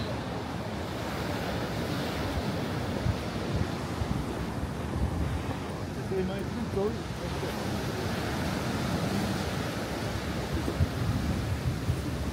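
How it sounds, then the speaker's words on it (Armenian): Sea waves wash onto a beach in a continuous rushing wash mixed with wind buffeting the microphone, with people talking over it. "Ծովի ձենը"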